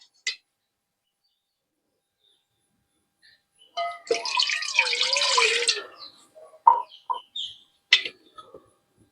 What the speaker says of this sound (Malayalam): ഇതിനകത്തേക്ക് ഞാൻ വെള്ളം ഒഴിച്ച് കാണിച്ചു തരാമേ